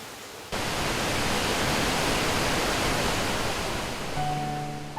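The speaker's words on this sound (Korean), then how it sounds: "산속의 정취를 더해주는 물소리를 따라 조용히 마음의 소리에 귀를 기울입니다." Mountain waterfall beside a pavilion at a temple valley, a steady, loud, broadband rush of falling water that starts abruptly after half a second and continues unbroken, with a faint tonal hum entering near the end.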